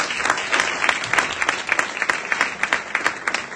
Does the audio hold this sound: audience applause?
yes